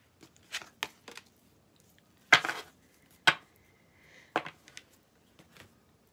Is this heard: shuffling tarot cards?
yes